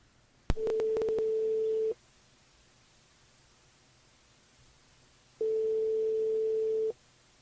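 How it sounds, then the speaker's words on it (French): A telephone line tone sounds as a radio show host places a call to a listener, two long steady electronic beeps separated by a few seconds of quiet line hiss, preceded by a click. "on appelle Guylaine, du côté de Saint-Paul"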